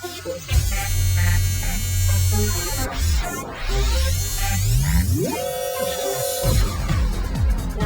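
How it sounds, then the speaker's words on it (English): Buzzy Roland V-Synth synthesizer tones play in layered patterns, with sustained drones, sweeping glides and a rising pitch bend holding a steady high note. "everything you're going to hear came from the V-Synth"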